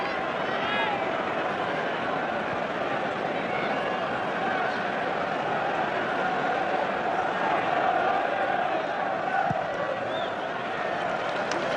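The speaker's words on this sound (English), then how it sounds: "Listen, this crowd is incredible." A huge rugby stadium crowd roars steadily behind France in a 1999 World Cup semi-final against New Zealand, a dense sustained wall of cheering and babble with no let-up.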